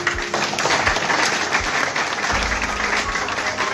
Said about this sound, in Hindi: जैसे आप लोग बजा रहे हैं तालियां भी